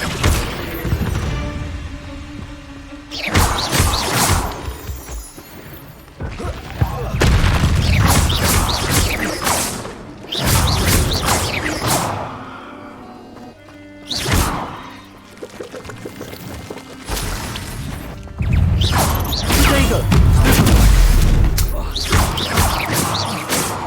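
Repeated blasting bursts of the Incendio fire spell in the video game Hogwarts Legacy, loud booming whooshes that come in several separate waves with short quieter gaps between them.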